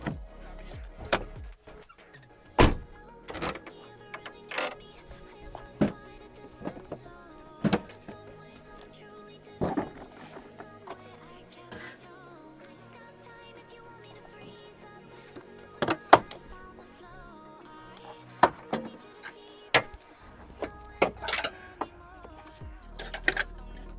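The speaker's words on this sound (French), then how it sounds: "première étape, on va enlever le pare-choc" Front bumper being removed from a BMW E46, a sequence of sharp plastic clicks, knocks and snaps from clips and panels, scattered irregularly between quiet gaps, close and fairly distinct.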